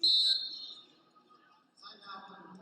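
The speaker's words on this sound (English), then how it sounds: "And we get a whistle." At a college basketball game, a referee's whistle gives one sharp, shrill blast at the start, then fades as crowd murmur and commentary carry on, with a second bright tone rising near the end.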